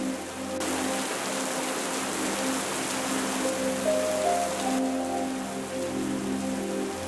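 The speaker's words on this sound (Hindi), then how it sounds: "तभी अचानक तेज आंधी और बारिश आने लगती है।" Steady heavy rain with a strong storm wind pours down in a constant dense hiss, with a low droning hum beneath it and no voices.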